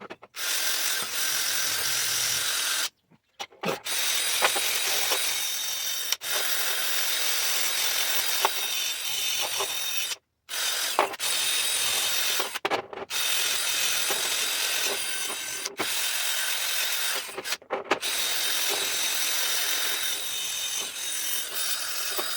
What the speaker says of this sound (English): Get the wire wheel going again on this